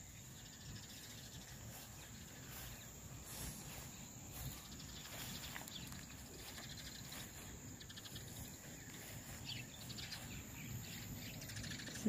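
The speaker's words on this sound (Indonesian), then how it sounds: "Ada suara-suara burung." Birds chirp faintly in the mountains of Taroko, Hualien, Taiwan, their calls blended into a steady bed of insect buzzing and soft outdoor ambience throughout.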